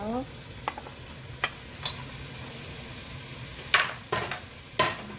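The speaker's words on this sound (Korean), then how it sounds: "이렇게 해서 볶아줍니다. 여기에 무 넣어주세요." Beef and radish stir-fry in a pan, a continuous sizzle broken by several sharp scrapes and clacks of a utensil against the pan, louder toward the end; no speech.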